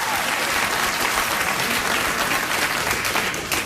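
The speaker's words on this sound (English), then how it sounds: "what the hell are these trained hobos cheering at?" A late-night talk show studio audience applauds and cheers in a dense, even wash of clapping that holds steady for a few seconds and eases slightly at the end.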